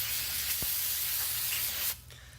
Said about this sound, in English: So you just take some brake clean,